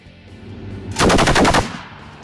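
A short burst of rapid automatic cannon fire from an AMX-10P armored vehicle, roughly eight loud shots in quick rhythm at 700 rounds per minute, rising abruptly above a low rumbling background and then stopping.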